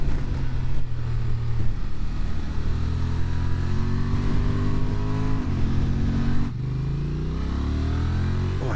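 Honda Transalp XL750 motorcycle engine revs and pulls through the gears, a loud, close rising drone with a brief dip and shift partway before climbing again, no talking.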